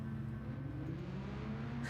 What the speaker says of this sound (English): Can you guys all hear the cars all right?